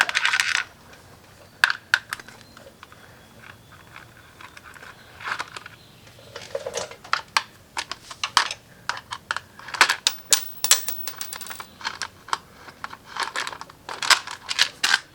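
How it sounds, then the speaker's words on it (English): Small metal clicks and taps ring out sporadically as a 5mm Allen key works bolts loose on the front sprocket cover of a CFMOTO IBEX 450 motorcycle, close up and with no talk. "Next, we're going to remove the cover off of the front sprocket. 5mm Allen."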